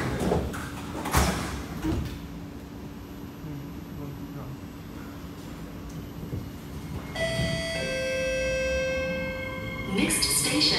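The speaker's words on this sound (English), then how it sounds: "Doors are closing." Doors on an SMRT Kawasaki Nippon Sharyo C751B train closing, with a steady chime of repeated tones and a soft rumble of the carriage behind it.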